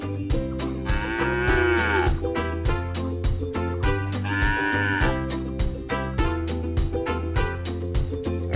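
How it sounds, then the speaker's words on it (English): A domestic cow mooing, with two long, drawn-out moos that rise and fall, over a steady bed of farm-animal background noise and rhythmic music-like pulses, no talking. "This is a cow."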